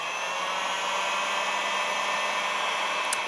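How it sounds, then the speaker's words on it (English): A heat gun blows steadily to shrink heat shrink tubing over wires on a radio-controlled car, making a constant, close, loud airy whoosh with a brief click near the end and no talking. "I like to use the heat gun. Don't melt it, and go ahead and heat shrink it on."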